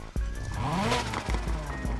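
A swapped 2.9 liter V8 starts up in a Honda Civic EK9 in the racing game Need for Speed Heat: a sudden crank and catch, then rising revs and a rumbling idle with short blips.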